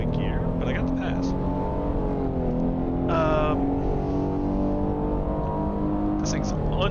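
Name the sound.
Genesis G70 car engine accelerating on track at Spa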